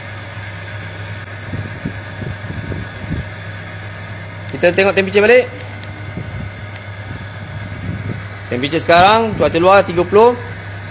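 A car engine idles after being restarted, its gearbox treated to reduce friction, giving a steady low hum beneath someone speaking throughout, with a few brief sharper sounds in between.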